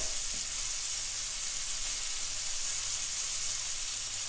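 Margarine sizzles and hisses steadily as it melts in a hot pot on a stovetop, a soft continuous frying crackle heard close up with no talk.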